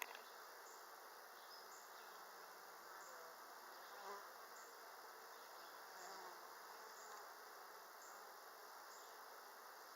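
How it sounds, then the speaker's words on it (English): Bees buzz steadily at a beehive, a faint, continuous insect drone with no voices over it. "See a big bee walking around?"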